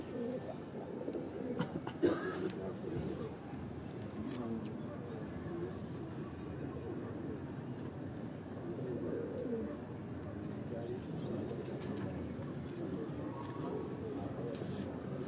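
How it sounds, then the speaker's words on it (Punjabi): Soft cooing and low murmuring of black pigeons in the background, with people talking nearby and a steady ambient rumble. "ਇਹ ਵੀ ਕਾਲਾ ਕਬੂਤਰ ਹੈ"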